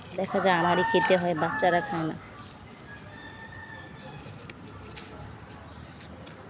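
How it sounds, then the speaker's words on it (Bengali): A rooster kept inside a city residential building crows loudly and close for about two seconds, one long harmonic call, then only a low indoor hum remains with a person speaking. "কি সুন্দর ডাকতেছে। গ্রামের মতো একটা সাউন্ড আসছে"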